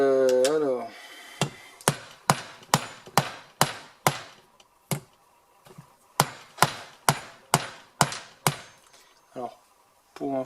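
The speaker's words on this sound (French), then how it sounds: "pour info, le marteau" A hammer tapping a part into place while a G40 compressor is reassembled: a series of sharp, evenly spaced metallic knocks in two bursts, close and fairly loud, after a brief moment of speech.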